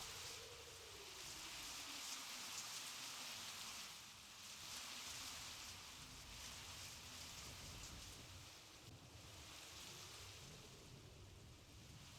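Steady heavy rain pours down in the Mius Front war game, a dense continuous hiss that swells and dips slightly, with a faint low drone underneath and no voices.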